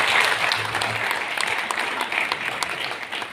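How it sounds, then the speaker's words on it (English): An audience claps steadily and loudly at an indoor fuel conservation awareness campaign launch. The applause is sustained for the full stretch with no talk over it. "And a round of applause to the working group of the industry"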